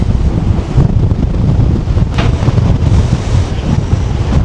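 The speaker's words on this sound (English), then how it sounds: "It is windy." Loud, constant wind buffeting the microphone on the Norwegian coast near Lofoten, with rushing surf and sea noise underneath, no voices, steady throughout.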